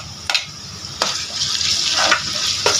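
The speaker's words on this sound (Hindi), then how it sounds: "अब इसमें अदरक लहसुन का पेस्ट ऐड करेंगे।" Ginger garlic paste frying with browned onions for mutton korma hisses in a loud, close sizzle. A spoon stirs through it with a few sharp scraping strokes against the pot.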